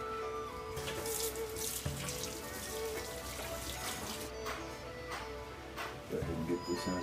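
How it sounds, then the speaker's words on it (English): Water runs steadily into a pot of cabbage in a home kitchen, a continuous splashing rush heard up close that stays even throughout. "I'm going to put a bunch of water in this and it's going to boil down."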